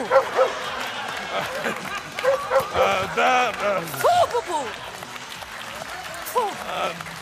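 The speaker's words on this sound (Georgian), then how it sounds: "შეიძლება თქვენი აპლოდისმენტები" An audience claps for a jury member being introduced at a comedy show, the applause rising and falling beneath a speaking voice, with some cheers and laughter mixed in.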